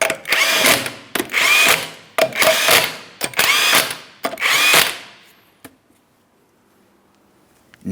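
An impact-style power tool drives the 19mm wheel lug nuts of a 2008-2016 Chrysler Town & Country, sounding as five loud, close, rattling bursts in a steady rhythm. A short click and quiet follow.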